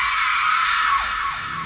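A woman in a horror story gives a loud, sustained scream that holds steady and then drops in pitch as it fades slightly toward the end.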